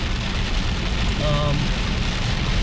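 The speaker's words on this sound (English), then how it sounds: "I'll have to get back to you if the rain subsides." Heavy rain pours down steadily in a dense, loud hiss that fills the whole moment, with a brief faint tonal sound partway through.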